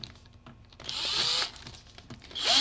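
A screw gun drives a 1.5 inch screw during an outside-mount window shade installation, giving short close whirring bursts of the motor that rise and stop, then start again.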